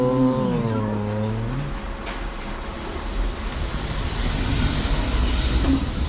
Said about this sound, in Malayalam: ട്രെയിൻ പോകുന്നുണ്ട്.